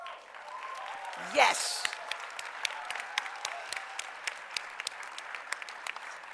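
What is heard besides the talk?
audience applauding graduates at award ceremony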